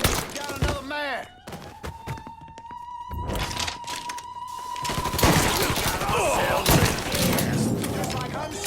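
Gunfire in the video game Mafia III: bursts of rapid shots and heavy thumps crackle through a firefight, growing denser and louder in the second half, with brief shouted voices near the start.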